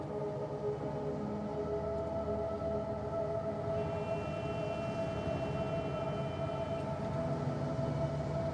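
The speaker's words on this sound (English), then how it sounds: "So the train just sedately rolls on through." A model train rolls steadily along a layout in the Rolling Line game, a constant mechanical rumble with faint city ambience, horns and sirens mixed in, and a thin high tone appearing partway through.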